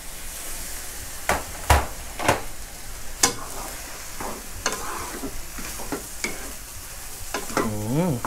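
Young zucchini stir-fries in a hot pan, a steady sizzle broken by sharp scraping strokes of a spatula at an irregular rhythm, close and fairly loud with no talk.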